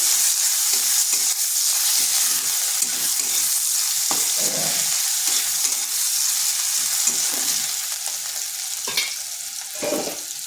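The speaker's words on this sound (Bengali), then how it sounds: "আর রসুন কুচি। হালকা একটু ভেজে নিচ্ছি।" Chopped garlic and onion fry lightly in a pan, a loud, dense, close sizzle that eases slightly toward the end, punctuated by scraping stirs, with no speech.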